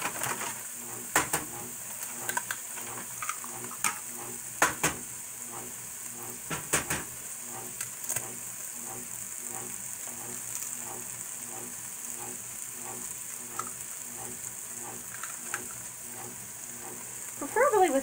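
Eggs frying in a pan for a breakfast scramble give a steady soft sizzle, broken by scattered utensil clicks and scrapes; a voice speaks briefly.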